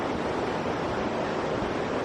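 A river on the Annapurna trek in the Nepal Himalaya rushes in a steady, loud, unbroken roar of churning water that fills the whole moment, with no voices over it.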